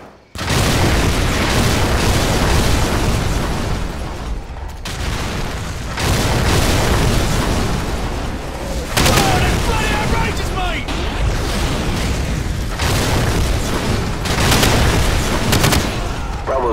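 Artillery strike in Call of Duty Modern Warfare, a rapid series of loud, deep booming explosions rolling one after another for the whole stretch, with voices talking intermittently over the blasts.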